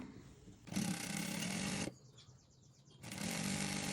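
A sewing machine runs in two bursts while stitching the hem of an A-line frock, with a fast, even whirring hum, close and loud, and a short quiet gap between the runs.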